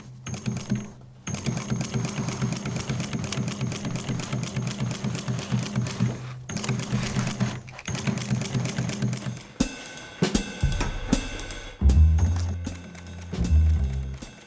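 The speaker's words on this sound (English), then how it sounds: "let's start sewing" An industrial sewing machine stitches pockets on jeans in a jeans-making workshop, with a fast, steady mechanical hum in long bursts separated by short pauses, then clunkier adjustments and uneven runs near the end.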